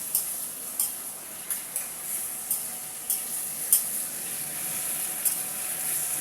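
A vegetable curry fries in a pan with a low, steady sizzle, broken by regular spoon scrapes and taps against the pan roughly every half second to second.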